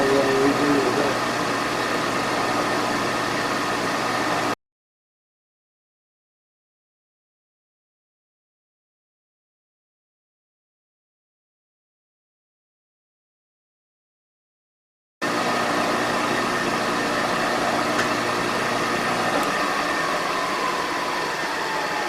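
An end mill on a pantograph mill cuts a steel anchor block at about 1900 rpm, giving a steady, close machining hum with a whirring tone. It stops abruptly into a long silence and then resumes just as steadily.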